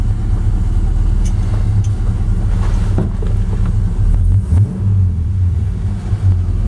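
A 1956 Chevrolet half-ton pickup fitted with an LS1 V8 rumbles loudly up close, its engine note rising and falling as the revs are brought up, with no talk.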